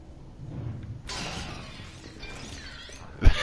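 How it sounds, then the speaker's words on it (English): Glass shattering in the video game Superhot on PlayStation 4 Pro, a bright crashing burst followed by a scattering rattle of shards, with a sharp thud near the end. "It must have been the glass making that racket."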